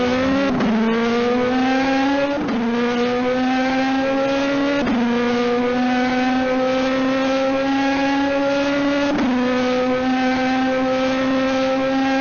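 Simulated Le Mans prototype race cars in a racing video game scream at high revs, pitch climbing through gear after gear with sharp shift breaks, loud and steady with no voices.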